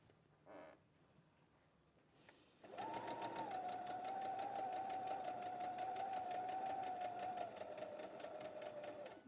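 An overlocker stitches around the edge of a circle of fabric, its rapid, even mechanical whirr starting abruptly after a quiet moment and running steadily close by, with a brief faint sound before it starts.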